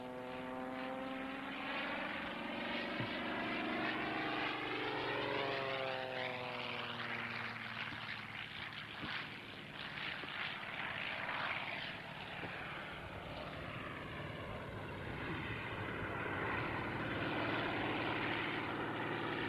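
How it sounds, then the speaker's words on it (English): A Fletcher propeller aircraft, a New Zealand-built agricultural plane made in Hamilton, flies past at a 1999 ag-aviation reunion air display, its loud droning engine shifting in pitch as it passes close by, steady throughout. "Another New Zealand aircraft? Yeah, these made Fletchers, made in Hamilton?"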